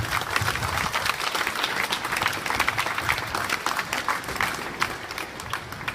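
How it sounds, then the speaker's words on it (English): A large crowd at a Reclaim Australia rally in Sydney claps together outdoors. The dense, continuous applause stays loud throughout with no letup. "If we can give them a clap."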